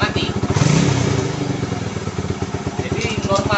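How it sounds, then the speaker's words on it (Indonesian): A motorcycle engine keeps running with the clutch pulled and a gear engaged, a close, steady mid-pitched putter heard under a man's speech. "Mesin tetap hidup, tidak mati."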